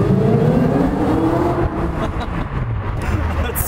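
A supercharged Audi R8 from 2009 gives a loud, steady exhaust drone that rises briefly and then settles, heard close up, with a voice faintly present underneath.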